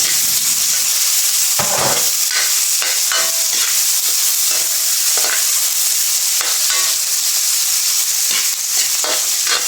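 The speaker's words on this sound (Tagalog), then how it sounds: "Gigsan na rin natin yung kamatis" Ginger and tomato sautéing in a pan, a continuous loud sizzle broken by repeated scraping stir strokes, with no voices.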